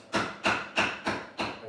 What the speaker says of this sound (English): this is a little bit of a harder wood rolling pin for hammering like this